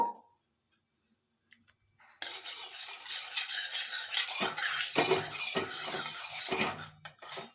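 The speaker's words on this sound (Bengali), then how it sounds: "পরিমাণ মতন আমি তেল দেবো দিয়ে সামান্য আমি একটু হলুদ দেবো দিয়ে ভালো করে নেড়ে নেব" Oil and a pinch of turmeric stirred in a pan with a metal utensil, a quiet pause giving way to steady sizzling and repeated clinks and scrapes against the pan.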